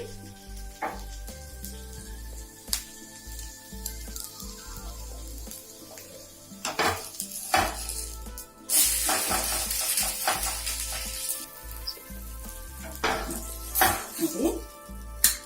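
A ridge gourd dosa roasting on a hot pan gives a steady soft sizzle, broken by scraping and clinking from a spatula and pan and a louder burst of frying hiss midway.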